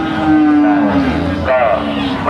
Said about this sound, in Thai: มีวัวเยอะมากครับ